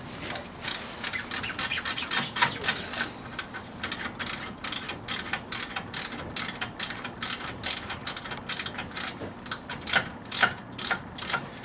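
A hand ratchet clicks steadily and loudly, loosening a brake bolt on a 1997 BMW 528i E39, with a rapid repeated pawl ratcheting running throughout and no talk.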